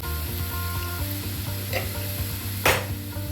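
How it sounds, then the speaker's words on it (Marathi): Onion frying in a pan as tomato is added and stirred for a Maharashtrian misal, a steady loud close sizzle with a brief scraping stir near the end, no voices. "त्याच्यात आता हे कांदा झालेला आहे, तर त्याच्यात टोमॅटो घालतो."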